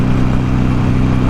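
Steady engine drone and wind roar from a motorcycle cruising flat out near 100 mph on a highway, rider in a full tuck, loud and unbroken throughout with no talk.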